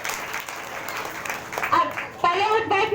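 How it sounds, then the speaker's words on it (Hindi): A worship congregation breaks into loud applause, the broad clapping swelling toward the end while a voice talks over it. "इसलिए आप लोग तेज ताली के साथ परमेश्वर को धन्यवाद देंगे"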